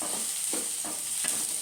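Colourful chopped vegetables (orange, red, green and white) fry in a pan for vegetable pasta, giving a steady, close hiss of sizzling oil with soft periodic stirring scrapes and no talking.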